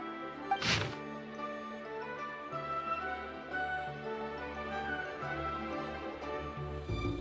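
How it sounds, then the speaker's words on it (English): A firecracker in the Genshin Impact video game goes off with a single sharp, bright bang near the start, then fades beneath steady in-game background music. "What's with the firecracker?"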